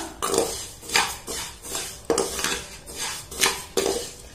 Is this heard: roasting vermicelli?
yes